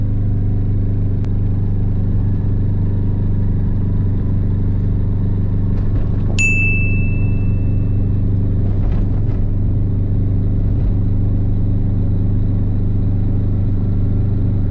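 AIXAM GTI microcar making a launch control start, its engine droning steadily and loud throughout with low rumbling road noise; a brief high whine cuts in partway through.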